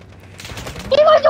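Gunfire in the Call of Duty Mobile video game, heard as a rapid burst of shots that starts partway through and grows louder toward the end, with faint voices underneath.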